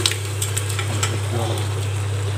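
About 1.5 kg of mutton sizzles in a pan with tomato and mint while cooking for dum biryani, a steady frying crackle over a low hum with a few stirring clinks.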